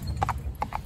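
A cob horse walks with two pairs of crisp hoof clip-clops, close and moderately loud over a low background rumble.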